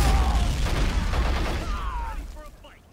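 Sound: gunfire in the video game Men of War Assault Squad 2

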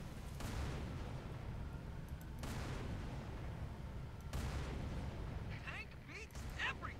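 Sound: tank cannon fire and explosions in video game Halo 3

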